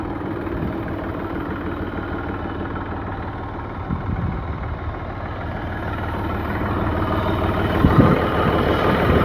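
A Mahindra 275 Yuvo tractor with a new engine idles steadily and close by, a continuous low rumble that swells slightly toward the end with a couple of faint knocks.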